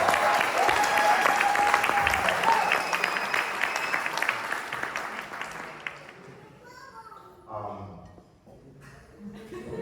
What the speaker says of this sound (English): Let's give Baruch a round of applause for that.